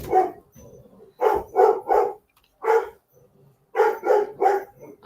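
A Cane Corso mix dog barks loudly and close by, in two clusters of deep, rapid barks separated by a short pause, with no talk over them.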